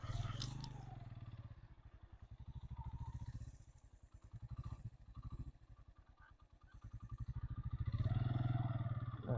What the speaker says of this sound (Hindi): बाइक निकालेंगे इधर से भी इंशाल्लाह।